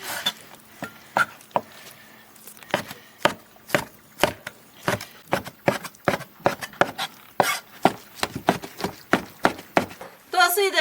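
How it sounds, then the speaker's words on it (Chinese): A knife chops shredded pig brain meat into small pieces, with close, steady, rhythmic chops repeating through the whole stretch. "把撕好的猪脑肉切碎"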